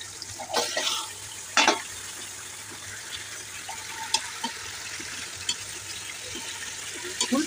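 Beef frying in oil makes a quiet sizzle with a few sharp spatters and stirring scrapes near the pan.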